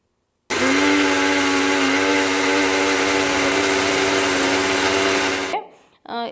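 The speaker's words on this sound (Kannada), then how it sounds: "ಇನ್ನೀಗ ಇದರ ಬ್ಲೆಂಡ್ ಮಾಡಿ ತಗೊಂಡು ಬರಬೇಕು" An electric blender whirs loudly and steadily for about five seconds while blending cold coffee with sugar, then winds down and stops, leaving brief rustling.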